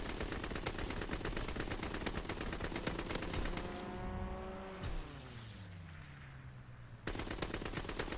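A high-fire-rate gun in Modern Warfare 3 fires long, rapid automatic bursts with crisp, evenly spaced shots. The firing pauses while a rising and falling engine-like whine passes, then the shooting resumes abruptly.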